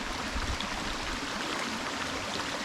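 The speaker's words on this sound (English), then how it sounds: "you can hear the waterfall." A waterfall on the Goodwater Loop trail at Lake Georgetown gives a steady, close rush of falling water, a broad even wash that holds without a break and with no voices.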